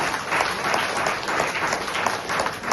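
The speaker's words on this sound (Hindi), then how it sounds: "एक बार उनके लिए जोरदार तालियां बजाइए।" Audience applause at a kidney stone herbal product event, a loud sustained wash of many hands clapping throughout.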